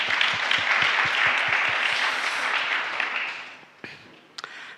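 A church congregation at an ordination service in Ruiru applauds together, a dense, steady wave of clapping that rings out loudly for about three seconds, then tapers off into a few scattered final claps.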